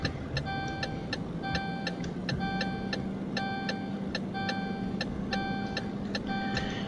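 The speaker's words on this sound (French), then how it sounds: "désolé du bip, hein, c'est l'alerte" Repeated short electronic alert beeps in Euro Truck Simulator 2, sounding in evenly spaced pairs and clusters over the steady hum of a 480 truck's engine, clear and fairly loud throughout.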